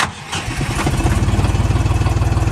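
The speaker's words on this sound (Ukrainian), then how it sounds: "заводимо даний трактор" Dongfeng 244 G2 minitractor, a 24 hp model, starting up: a short crank and catch, then the engine settles into a loud, steady rhythmic idle chug close by.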